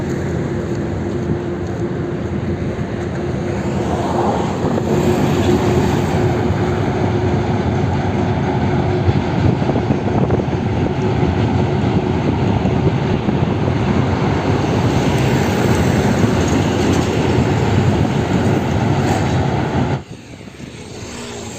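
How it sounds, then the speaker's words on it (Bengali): A train rumbles past close by near Kolaghat bridge beside a highway, a loud sustained roar with a faint steady whine that holds for about twenty seconds and then drops off abruptly. "ট্রেন যাচ্ছে"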